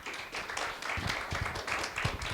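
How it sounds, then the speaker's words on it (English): An audience at a community mental wellness event applauds as a speaker is introduced: steady, fairly close clapping from a modest crowd with a few distinct hand slaps, no speech over it. "big round of applause for Natalie Nowkawalk"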